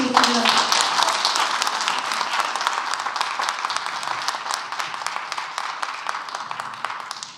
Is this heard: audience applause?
yes